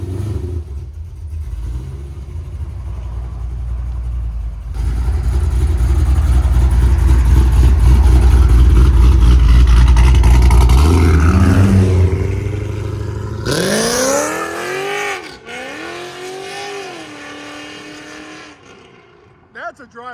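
A big LS3 V8 engine in a C5 Chevrolet Corvette idles loudly, then revs hard several times before the car pulls away and the sound fades; voices are briefly heard.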